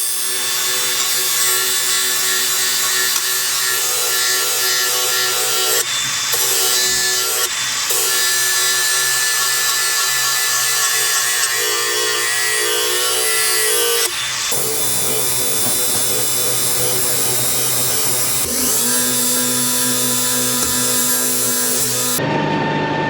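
Power tool grinding an edge onto the blades of an old Kuhn disc mower, a loud, continuous whining rasp that shifts pitch slightly and pauses briefly several times before cutting off.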